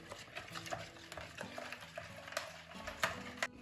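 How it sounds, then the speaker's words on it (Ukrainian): A spoon stirring yeast into warm milk in a bowl, with soft repeated scraping and light clinks against the sides, close and quiet. "Добре це перемішуємо, щоб розійшлися дріжджі."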